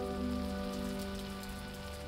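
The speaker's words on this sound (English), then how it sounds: "It's a rainy day here at Three Rivers Lodge." Steady rain patters on surfaces at a lodge in a continuous soft hiss, with a low constant hum underneath and no voices.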